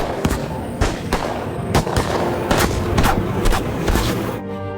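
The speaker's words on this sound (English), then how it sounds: "A shot dropped John under police fire, but his new vest and doctors saved him." A police shootout in an action movie: a burst of sharp, irregular gunshots cracking over a constant rumbling background, loud and fairly close, with no voices.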